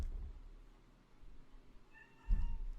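A cat gives a short, faint meow against a murky background of low rumble, followed by a louder bump of noise near the end.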